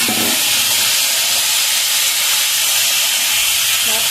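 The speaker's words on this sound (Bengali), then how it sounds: "পটলগুলোকে আমি তেলে ছেড়ে দিয়েছি আমার তেলটা গরম হয়ে গেছে" Whole pointed gourds sizzle loudly in hot oil, a dense steady frying hiss that fills the whole stretch close up, with a few brief clinks of a utensil at the start and end.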